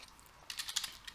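Keys clatter on a computer keyboard while code is entered in an online editor, a short close burst of several quick keystrokes after a brief quiet start, with no talk.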